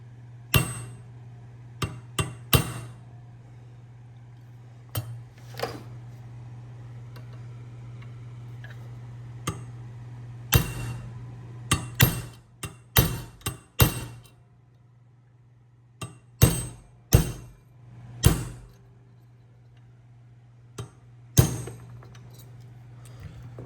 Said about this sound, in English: Medium-sized hammer, decent punch.